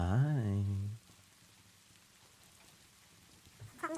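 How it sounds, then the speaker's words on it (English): Rain falls at night as a faint, steady patter after a brief sung or spoken phrase, with another voice starting again at the end. "Can you hear the rain tonight?"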